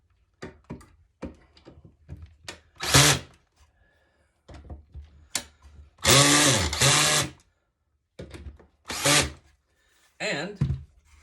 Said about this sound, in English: You'll hear my drill stops turning when it gets to the right torque.